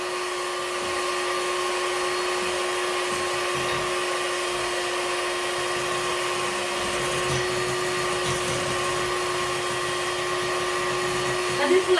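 An electric mixer whips cream until it holds stiff peaks for mini cheesecakes, a steady close whirring drone running unbroken throughout, with no talking.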